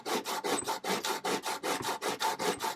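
Steady back-and-forth rasping of a vintage hand plane blade being sharpened during restoration, about a dozen even strokes in quick rhythm, close and alone.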